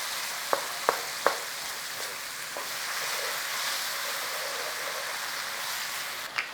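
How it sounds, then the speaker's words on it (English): Spatula scraping browned fond off the bottom of a hot pan while beef cooks, with a few sharp scrapes at first, then a steady loud sizzle that carries on alone. "Scrape all the fond off the bottom of the pan"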